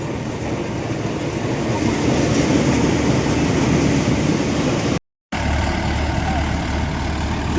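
A thresher runs at full speed threshing a cumin crop in a field, giving a steady, loud mechanical roar and rattle that continues unbroken apart from a brief dropout near the end.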